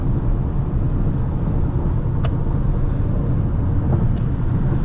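Interior road noise from a 2023 Toyota Crown Platinum hybrid under way, a steady, loud low rumble of tyres and motion with a couple of faint ticks, and no talking.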